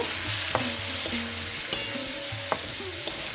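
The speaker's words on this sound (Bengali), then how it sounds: "এটা দিয়ে আমি ভালো করে একটু কষিয়ে নেব" Ground coriander and cumin sizzle steadily in a hot pan for a cabbage-and-prawn dish, with a few sharp spatula scrapes and taps against the metal at intervals; no talk.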